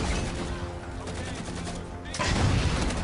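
Gunfire in the shooter Halo 4 on the Composer level, a loud single shot bursting in near the end after a stretch of game ambience.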